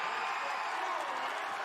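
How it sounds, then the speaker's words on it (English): Arena crowd at a robotics competition applauding in a dense, steady wash of clapping and murmur, even and sustained. "you can hear the applause"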